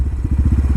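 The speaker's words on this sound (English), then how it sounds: "mind you, we're only riding this little bike" A small motorcycle rides with a close, loud, rapid chugging engine pulse, beating in a fast, even rhythm.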